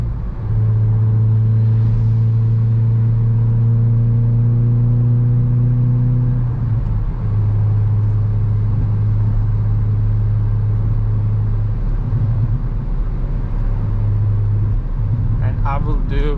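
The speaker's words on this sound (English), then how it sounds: "I will do one more acceleration" A Hyundai i20 N with a six-speed manual and loud exhaust accelerating, a strong steady engine drone holding pitch then dropping briefly at a gear change before pulling again, heard loud from inside the car with a faint voice near the end.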